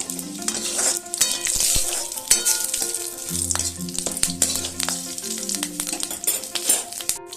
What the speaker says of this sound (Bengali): এবার এই তেলের মধ্যে আমি ফোড়ন দেব, একটা তেজপাতা, 5 ফোড়ন আর একটা কাঁচা লঙ্কা